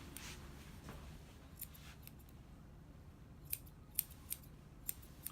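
Scissors snip through a poodle puppy's fur during grooming, a quiet scattering of short, crisp clicks that grow more frequent toward the end over a faint room hush.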